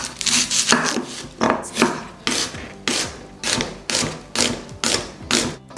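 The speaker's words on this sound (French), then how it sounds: "je commence par couper l'oignon rouge" A knife chops a red onion on a cutting board in quick bursts of rhythmic taps and thuds, pausing briefly between runs, close and clear.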